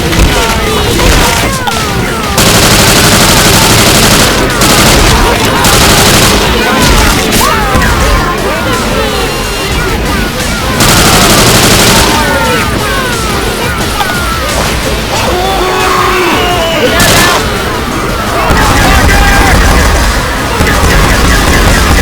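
Gunfire and explosions from a modded Left 4 Dead 2 game in a swamp fever setting, dense loud repeated shots, crashes and booms packed close together, with character voices shouting over the barrage.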